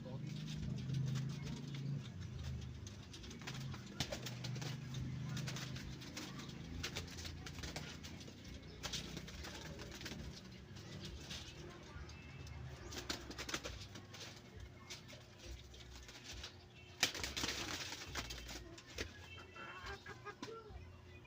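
Native pigeons coo in a flock outdoors, with low repeated coos under constant background noise, passing sounds and people talking throughout.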